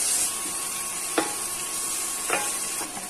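Garlic cloves and a piece of ginger sizzle steadily in hot oil in a kadai for kadai paneer, a continuous close hiss broken by a few sharp spoon scrapes against the pan.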